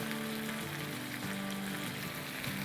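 Yogurt with ginger, garlic and spices sizzling steadily in a hot pan, a dense continuous frying hiss with a faint low hum underneath, close and even throughout with no talking.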